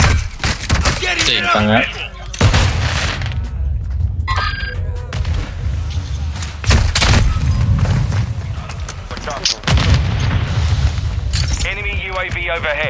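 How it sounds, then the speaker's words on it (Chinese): Teammates fire guns in Call of Duty Modern Warfare 2 (2022): bursts of sharp, loud gunshots and impacts come in irregular clusters, mixed with game effects, while players talk excitedly over much of the action. "我听到队友乱开枪了"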